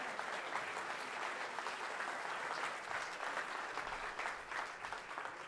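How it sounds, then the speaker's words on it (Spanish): An audience at a live comedy show applauds after a told story, a dense, even wash of many hands clapping from a distance, steady and moderately faint throughout. "Normalmente aplauden en un cuento tan hermoso como este"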